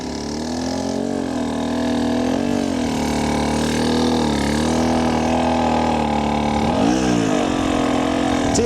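Enduro dirt bike engine working hard up a desert hill climb, a steady loud drone that swells and dips with the throttle as the rear wheel searches for grip, with no talk over it.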